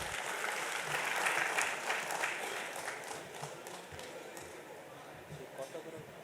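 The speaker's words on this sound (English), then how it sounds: "Can we have a huge round of applause," Audience applause fills a hall at a national cost and management accountants convention, a dense wash of clapping that starts loud and gradually tapers over several seconds, with crowd noise underneath.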